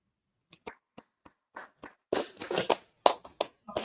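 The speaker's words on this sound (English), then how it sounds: "clap it up for the class." Audience clapping for a class at a gathering in Harlem, New York: a few scattered claps at first, then a denser burst of claps that thins out again, moderately close.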